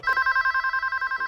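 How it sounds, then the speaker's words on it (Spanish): Telephone ringing in the Monster House film, a fast electronic bell trilling in steady regular pulses, loud and close, with no voices over it. "quien llama ahora por teléfono a DJ"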